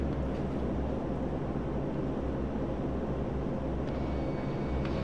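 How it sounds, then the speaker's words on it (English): A steady low buzzing drone from a parked spaceship's engines in the Star Citizen video game, set in a hangar. It holds constant and fairly loud for the whole stretch, with no voices. "What's with that buzzing noise? Did it somehow leave this thing's engines off despite me powering it fully down?"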